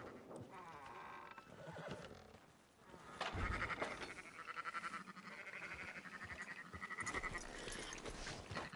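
Sheep bleat in the video game Red Dead Redemption 2, several wavering calls near and fairly loud over a busy ranch background with horse sounds mixed in.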